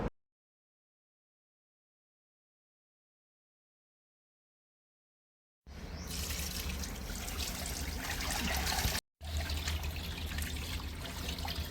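Wheat grains are washed in water by hand. After a long stretch of silence, a steady close trickling and sloshing of water begins, broken once by a short gap.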